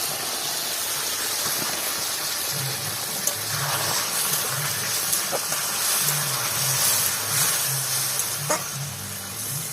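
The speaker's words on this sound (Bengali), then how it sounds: "আমি জল দিয়ে দিচ্ছি।" Water is poured into a hot pan for a Bengali radish fish curry, giving a loud, steady gushing hiss that lasts the whole time with small pops rising through it.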